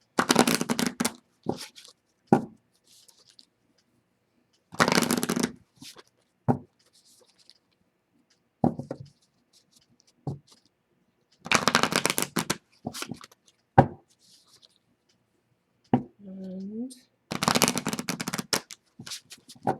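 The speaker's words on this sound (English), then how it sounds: "as I'm shuffling these cards" Tarot cards are riffled and shuffled in several crisp bursts separated by quiet gaps, with occasional single taps and flicks in between.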